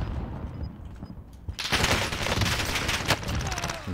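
CX-9 submachine gun fire in the shooter game Warzone, a dense sustained burst of rapid shots that starts abruptly and fills the rest of the moment, loud and close, with no talking.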